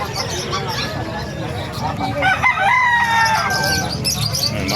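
Golden Boy sweater gamefowl roosters at a Calumpit market crow with drawn-out calls through the middle of the clip, set against steady crowd chatter and nearby talking.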